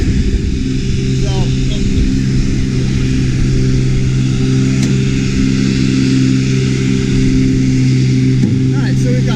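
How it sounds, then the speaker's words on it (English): Helicopter engine run-up nearby during a main rotor system walkaround, a steady loud turbine and rotor drone holding constant throughout, with people talking over it. "You guys are doing engine run out there."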